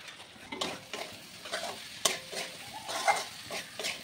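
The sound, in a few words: vegetables stir-frying and sizzling in a pan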